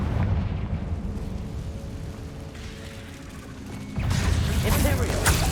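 A Confringo fire spell bursts in the video game Hogwarts Legacy, a sudden loud rumbling explosion surging in over a steady background roar and lingering to the end.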